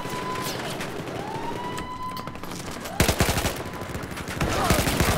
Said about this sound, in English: Meg taking some shots down range